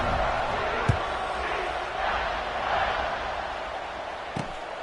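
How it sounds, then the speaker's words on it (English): Stadium crowd in an NCAA college football video game keeps up a steady, loud buzz of cheering and chatter after a score, with a couple of sharp thuds standing out. "this crowd is buzzing after that last score"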